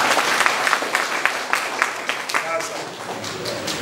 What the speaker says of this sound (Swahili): Kwa hakika mpigie makofi waziri mkuu.